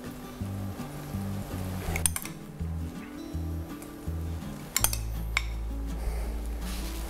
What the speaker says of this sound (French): on remue avec notre vinaigrette, huile d'olive, vinaigre de framboise et miel